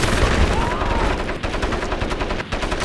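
Dense, loud automatic gunfire in the shooter Crysis, a continuous rattle of rapid shots with booming low impacts, up close and unbroken for a few seconds.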